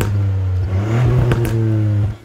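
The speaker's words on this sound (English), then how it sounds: "When you hear that engine rev up, it's like a tiny T-Rex letting out a roar." Ford Fiesta ST three-cylinder engine revving, a loud, close, throaty drone that rises and surges briefly before cutting off at the end.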